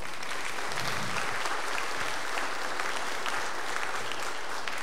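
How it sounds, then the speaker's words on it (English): A church congregation applauds the baptized young men in a dense, steady roar of clapping that holds at full strength from start to finish. "Can you give them a round of applause?"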